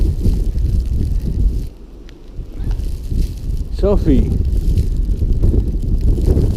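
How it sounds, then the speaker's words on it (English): Strong wind during a New York snow blizzard roars as a constant loud rumble and buffeting across the microphone, easing briefly then returning; a person calls out and talks over it. "It's fucking windy."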